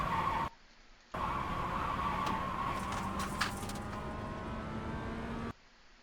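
Mazda MX5 in the iRacing sim at Motorsport Arena Oschersleben, engine droning steadily under a faint, sustained tire-squeal hiss as the tires slide on the road. The sound cuts out briefly at the start and at the end.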